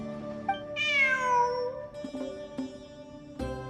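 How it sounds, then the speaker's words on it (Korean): Cat meowing in the game Genshin Impact: a single clear, drawn-out meow with a falling pitch, loud and close, followed by a few soft clicks over faint background game music. "저기 봐. 고양이야."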